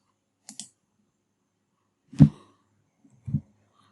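A computer mouse clicking during CAD sheet-metal work, several isolated sharp clicks spaced apart in a quiet room, one faint double click early, then two louder single clicks, no talking.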